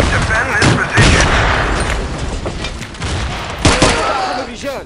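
Rapid pistol gunfire in Battlefield 3 crackles in dense, loud bursts, with bangs following one another across the whole stretch amid battlefield noise.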